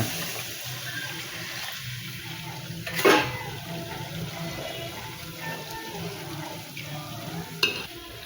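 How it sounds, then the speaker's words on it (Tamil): Water splashes into a sizzling pan of Chettinad chicken gravy in a short burst, then the frying hiss continues with light stirring and a brief clink near the end. "தேவையான அளவு கொஞ்சம் தண்ணி ஊற்றிக்கோங்க."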